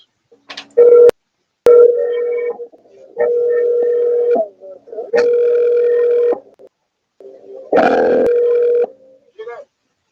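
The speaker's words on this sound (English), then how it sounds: "Phone call that came through." A telephone tone from an incoming call cutting into a conversation: repeated steady beeping tones in separate bursts of roughly a second or more each, loud and clear with brief gaps between them.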